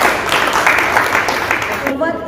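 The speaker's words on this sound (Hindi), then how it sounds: "सभी वक्ताओं के लिए एक बार फिर से जोरदार तालियां" Loud applause from the audience for the speakers at a Jain women's federation discussion gathering, a thick wash of clapping that carries steadily before thinning out near the end, where a voice begins.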